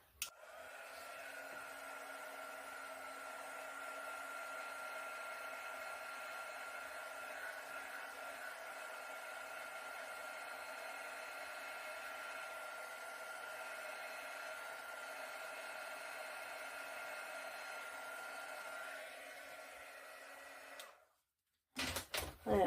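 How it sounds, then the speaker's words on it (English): A heat gun blows steadily on poured acrylic paint, a constant close whirring hiss with a tonal fan whine that runs unbroken for about twenty seconds before cutting off abruptly. "now I'm going to hit this with a heat gun to bring up cells"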